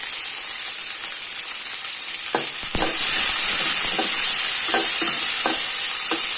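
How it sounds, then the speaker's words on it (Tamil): Onions sautéing with salt in a pan make a steady sizzling hiss, broken by a few sharp scraping knocks of a spoon stirring around the pan. The frying grows slightly louder partway through. No one speaks. "வெங்காயம் நல்லா வதங்கிறதுக்காக அதில் கொஞ்சம் உப்பு ஆட் பண்ணுறோம்"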